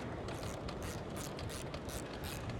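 A 1/2 inch ratcheting spanner tightens bolts on a heavy-duty umbrella canopy, giving a fast, quiet, continuous clicking with no talking.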